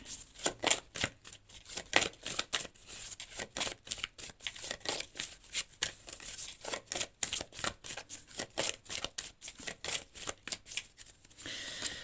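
Oracle message cards are shuffled steadily up close, giving a run of quick papery riffles and flicks that stays fairly quiet, with no talking.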